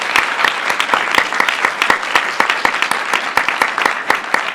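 An audience at an undergraduate student conference applauds four student presenters, a sustained round of close, dense clapping with crisp individual claps standing out.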